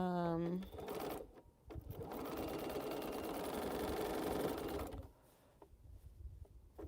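A sewing machine stitches quilt pieces together for a row of a quilt, its rapid steady whir running for several seconds after a brief pause, with a voice speaking at the start and softer talk or handling noise after it stops.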